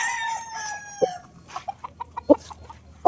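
Gamefowl roosters at a game farm: a long crow trails off, followed by a run of short, sharp clucks and calls, fairly close and clear with little background.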